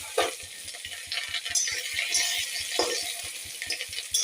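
Whole spices, cumin and coriander, with ginger and two bay leaves sizzling in hot oil, a close bright crackle with irregular spatters and light stirring scrapes, no talk.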